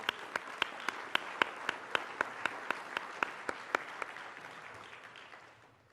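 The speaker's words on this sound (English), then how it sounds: "I think she deserves our applause with regard to this" An audience at a medical conference presentation claps in a steady wash of applause, with sharp, evenly spaced louder claps standing out on top before the sound thins and fades.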